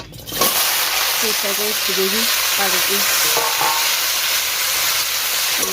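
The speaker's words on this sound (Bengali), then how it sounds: "সবজিগুলো একসাথে দিয়ে দিলাম তেলের উপরে দিয়ে একটু ভাজা ভাজা করে নেব" Vegetables frying together in hot oil give a loud, continuous sizzle and crackle close by, with brief stirring clatter and a voice speaking over it.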